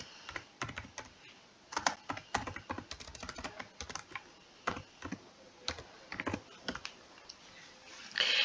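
Typing a search query on a computer keyboard, with a steady run of close, crisp keystrokes in uneven bursts, no voices present.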